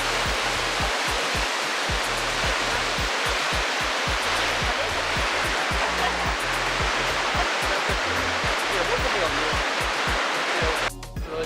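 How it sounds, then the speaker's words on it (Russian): A waterfall in Armenia roars steadily and up close, a dense broadband rush of falling water that holds unbroken throughout, with a low rumbling churn beneath and a brief shift right at the end. "Второй водопад полностью в Армении, кстати."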